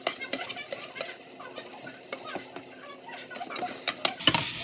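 Meat frying in a pan, a close, continuous sizzle broken by scraping stirring strokes and light clinks of a utensil against the pan.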